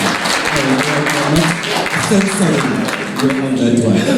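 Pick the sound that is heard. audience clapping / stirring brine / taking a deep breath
audience clapping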